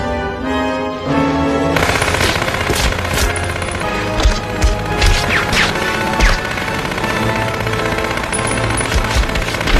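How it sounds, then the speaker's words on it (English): Gunfire from a film scene in Dogma in which a character's wings are shot off, heard as loud repeated bursts over dense music and crashing effects across the whole stretch. "Then he gets his wings shot off by Jay."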